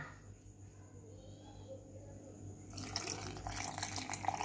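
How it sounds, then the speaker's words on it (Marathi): Water being poured into red coconut chutney in a blender jar, a soft broadband splash arriving midway and continuing steadily to the end at modest loudness. "पाणी घालूया,"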